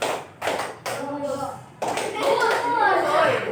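Schoolchildren in a primary school classroom clap in short bursts following a counted clapping game, with several sharp group claps separated by pauses and children's voices mixed in.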